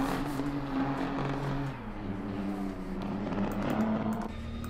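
A 2021 BMW M4 GT3 race car set up for drifting drones steadily through its engine in a racing video game, a loud continuous roar with slight shifts in pitch.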